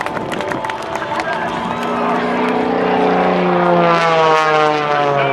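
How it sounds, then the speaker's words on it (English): A Staudacher S300 aerobatic propeller airplane performs at an open house air show, its engine drone rising and sliding in pitch as it passes fairly near and loud, with crowd noise and an announcer's voice beneath. "The airplane loses altitude at the greatest rate of speed."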